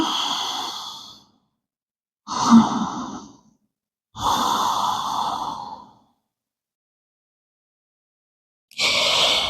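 Slow, deep Ujjayi yoga breaths drawn in and out through the nose with a constricted throat, producing a close, hissing, oceanic rush. There are four long breaths, each about a second or more, separated by clear silent pauses.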